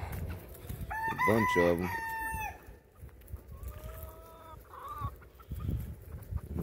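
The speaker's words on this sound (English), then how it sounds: "Gonna go check on some chickens." Chickens cluck and a rooster crows outside on a cold day in Florida, loud crowing up close followed by scattered clucks, with someone speaking briefly over them.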